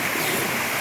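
Steady rushing water of a stream on the way to a waterfall in Bani, Pangasinan, a continuous broadband wash filling the moment with no break.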